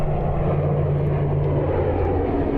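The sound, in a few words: propeller airplane landing at Christchurch airport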